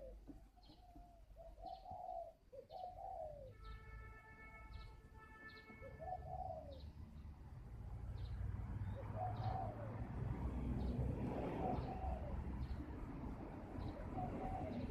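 A spotted dove, a wild-caught bird, gives a series of soft, rounded coos in short repeated phrases, with other chirps and a steady low rumble that grows louder partway through.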